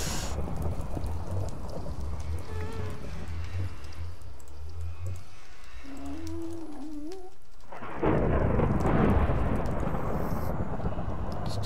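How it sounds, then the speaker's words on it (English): Rain and rumbling thunder in the Minecraft Nether, a steady wash of rain noise throughout that swells into a louder, broader roar of thunder for the last few seconds, with a low tone sliding upward just before it. "Still questioning the lightning in the nether."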